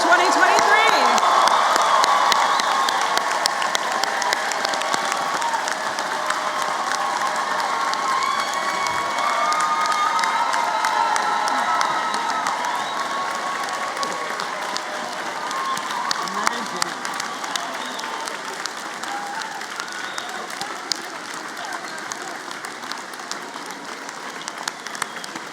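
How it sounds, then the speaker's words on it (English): Sustained applause from a large commencement audience honoring the Yale Law School graduating class of 2023, dense and steady with scattered cheers and whoops, slowly tapering over the length. "Please join me for one more round of applause for the Yale Law School class of 2023."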